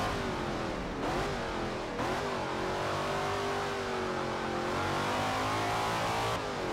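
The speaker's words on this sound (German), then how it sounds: "Jetzt bin ich hier an Drehzahlbegrenzer gekommen." A 7.0-litre V8 Cobra in Forza Motorsport 7, engine screaming loud and close against the rev limiter, with brief dips and re-climbs in pitch as the revs bounce, no talking.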